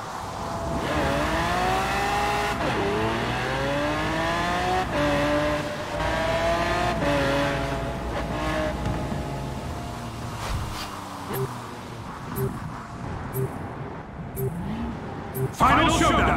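Engines of a Lamborghini Aventador and a Bugatti Veyron in a Forza Horizon 4 race, a steady loud drone with rising and falling revs and a few sharp tones near the end, continuous under a voice.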